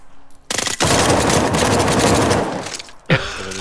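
Loud, sustained automatic gunfire in the video game The Front: a dense rattling burst of about two and a half seconds, preceded by a brief short shot and followed by a quieter sound at the end.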